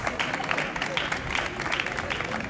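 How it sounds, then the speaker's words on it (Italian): Audience applause at a flower competition award ceremony in Pescasseroli, steady dense clapping from a crowd filling the short moment, with voices mixed in underneath. "Un applauso anche per lei"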